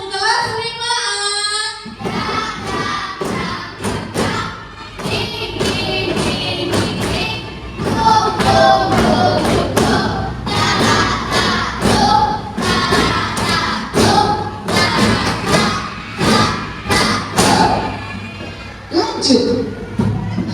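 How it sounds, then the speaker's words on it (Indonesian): A classroom of fifth-grade pupils claps in loud, rhythmic bursts of synchronized hand claps, repeated in patterned groups for most of the stretch, with brief voices at the start and end. "tepuk tangannya dong kelas 5A."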